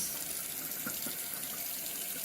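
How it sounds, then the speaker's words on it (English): A tap runs in a steady, soft stream of water into a sink, with faint splashes and nobody speaking. "I'm just going to put some water"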